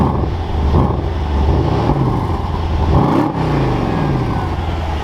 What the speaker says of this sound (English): I want to grab a quick little exhaust clip.